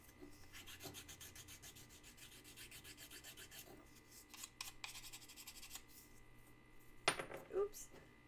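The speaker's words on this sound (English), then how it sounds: "I'm going to hit it with some sandpaper going in the other direction to create a bit of a bevel" Sandpaper rubbed across the edge of a small sheet metal box clasp to bevel and round it, heard as quiet, steady rasping strokes that are faint against the room, followed by a brief sharper scrape near the end.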